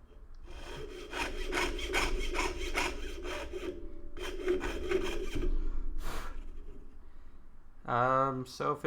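A jeweler's saw with a 2/0 blade cuts thin metal in quick rhythmic rasping strokes, close and distinct. The sawing pauses briefly partway through, and a voice speaks near the end.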